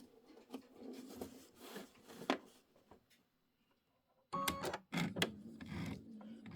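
An embroidery sewing machine stitches an Easter tile, a steady rapid mechanical patter running close and fairly quiet, stopping briefly midway before resuming in short bursts.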